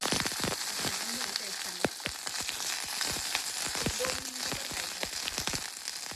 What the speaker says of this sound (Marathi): कढई गरम झाली की आपण त्यात थोड्या मिरच्या शेंगदाणे भाजून घेऊ